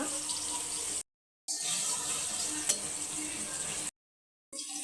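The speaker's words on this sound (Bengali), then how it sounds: "মাছ ভাজা হচ্ছে ভেজে একটি পাত্র তুলে নিচ্ছি" Pangasius fish fries in a pan with a steady, close sizzling hiss that cuts out briefly twice.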